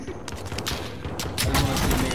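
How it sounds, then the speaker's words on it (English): Rapid bursts of gunfire in the Warzone video game on Rebirth Island, a steady barrage of shots that grows louder partway through, with no voices. "Who the fuck is in here shooting?"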